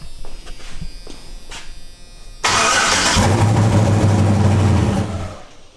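A twin-turbo LSX Fox-body car with a new exhaust cranks and fires up abruptly, settling into a loud, steady buzzing idle with a deep rumble before cutting off near the end.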